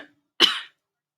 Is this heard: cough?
yes